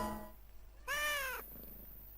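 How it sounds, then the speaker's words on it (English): A single clear cat meow from the video game Shadow of Memories, a drawn-out tonal cry of about half a second rising out of a quiet backdrop, with no talking over it. "I now have a cat."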